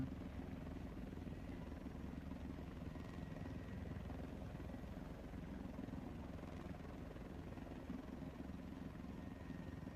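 Helicopter in the War Thunder combat game flying steadily, a continuous low rotor and engine drone with a chopping pulse that holds at even loudness for the whole stretch, with no voices.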